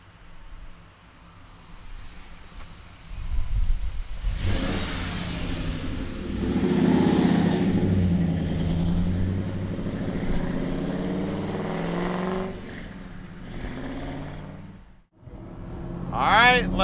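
A 1940 Ford coupe street rod engine idles, then revs up and holds a throaty roar for several seconds before easing off, with someone talking briefly near the end.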